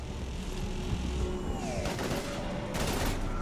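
Rapid gunfire and combat noise from the Mass Effect video game, a dense continuous rattle of shots with bursts of louder blasts amid a busy battlefield din, no clear talking.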